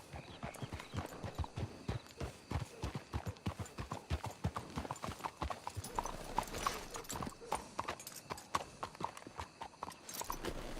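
Horse hooves clip-clop steadily at a walking pace in Red Dead Redemption 2, a continuous run of fairly quiet close hoof strikes with soft voices murmuring now and then.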